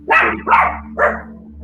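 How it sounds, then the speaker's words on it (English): A dog barks three times in quick succession, loud and close indoors, with a steady low hum underneath and no one talking. "Spike, if you don't stop barking every time I do a video"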